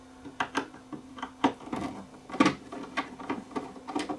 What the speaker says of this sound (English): remove the screws that hold the chassis in place